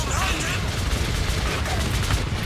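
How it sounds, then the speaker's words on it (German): Dense, continuous gunfire from the video game Metro 2033 Redux, loud and steady like a sustained firefight, with a voice mixed in under the shots. "Bereithalten, gleich müssen wir schießen."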